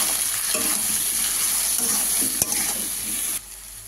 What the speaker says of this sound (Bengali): দিয়ে দিলাম পরিমাণ মতো হলুদ গুঁড়ো। দিয়ে আমি এটাকে আস্তে আস্তে ভালো করে কষে নেব।